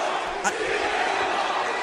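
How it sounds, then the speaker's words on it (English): Crowd chanting in a WWE 2K wrestling video game arena, a distant broad roar of many voices with one brief louder burst, under continuous nearby talk. "What is that crowd chanting out there?"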